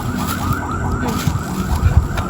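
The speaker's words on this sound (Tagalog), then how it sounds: "Pero yung malakas talaga yun. Ambulansya yun eh." A loud wailing ambulance siren cycles up and down over a rumble of nearby road traffic.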